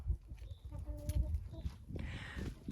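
Hens cluck and murmur inside a chicken coop beside a two-sided hopper feeder, short close calls over soft shuffling and scratching, one louder squawk near the end.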